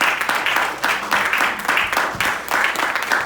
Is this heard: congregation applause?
yes